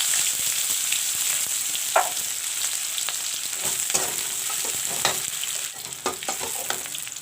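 Onion fries in oil with panch phoran, a continuous close sizzle broken by scattered clinks and scrapes of stirring in the pan.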